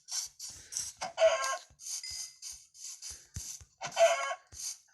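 Chickens in a Minecraft-style video game give short, clucking squawks in quick bursts, several calls spaced across the span at moderate loudness, with no talk over them.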